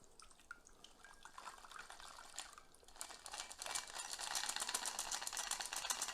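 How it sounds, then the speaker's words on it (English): A mocktail pours from a shaker into a glass while the ice is held back, a faint, close trickle that grows into a steadier, brighter splashing stream. "So you pour it in."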